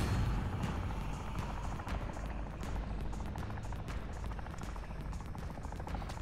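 A helicopter approaches in Call of Duty Modern Warfare 3's open-world zombies mode, its rotor rumbling steadily beneath scattered booms and bursts of gunfire.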